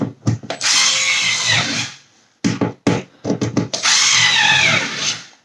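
Hand hacksawing during a fridge repair: two long bursts of rasping strokes with several short strokes between them, loud and close, with no talk.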